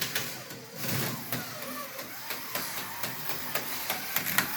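A small HO-scale slot race car speeds around a track, whining and buzzing steadily close by, with quick ticks and clicks throughout.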